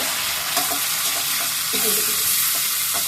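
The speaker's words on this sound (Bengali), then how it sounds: "এবার কাঁকরোল, পটল, কুমড়ো সব একসাথে ছেড়ে দেবো।" Ridge gourd, pointed gourd and pumpkin fry together in a pan with whole chillies, a loud, steady sizzle broken by a few scraping knocks of a stirring spoon, close by and without voices.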